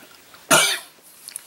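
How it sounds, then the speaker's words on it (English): A single sharp cough bursts out close by, followed by quiet with a few faint clicks. "I'm getting a cough"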